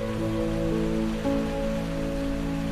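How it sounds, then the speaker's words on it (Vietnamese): Rain falling outdoors at a plant nursery with bougainvillea bonsai, a steady close hiss of drops on surfaces mixed with a low hum, continuous throughout and without speech. "Hôm nay trời mưa gió"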